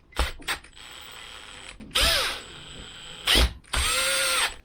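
A power drill whirs in three short bursts separated by pauses, rising in pitch as it drives screws into a Grainfather G30 brewing unit, with small clicks and handling noises between.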